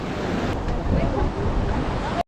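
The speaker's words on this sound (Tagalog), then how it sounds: "Dagat alon woohoo" Steady roar of sea surf washing onto a shore in La Union, Philippines, broad and constant, with heavy wind rumble against the microphone; a faint voice may be mixed in.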